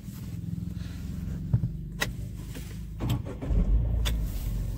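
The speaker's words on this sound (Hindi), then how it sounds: "मैं गाड़ी को स्टार्ट कर लेता हूँ।" A Tata Tiago iCNG starts up from inside the cabin: a few clicks and thumps come first, then the engine catches and settles into a steady, close low rumble.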